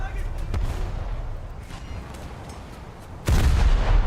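A warship's main battery guns fire in a naval combat game, heavy booming salvos over a low rumble with a sudden loud broadside near the end, while a voice talks over it.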